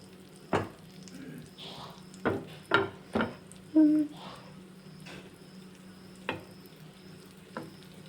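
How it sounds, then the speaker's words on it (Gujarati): Potato tikki patties for street-style ragda pattice fry in a pan over a medium gas flame. A soft, steady sizzle is broken by a handful of sharp utensil taps against the pan. "ટીકીને આપણે મીડિયમ ગેસ ઉપર કરી લેશું ગોલ્ડન બ્રાઉન"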